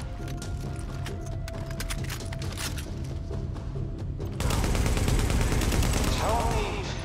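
M249 machine gun in The Division blazes continuously in a sustained stream of rapid shots, the firing growing louder and denser partway through amid the game's combat noise.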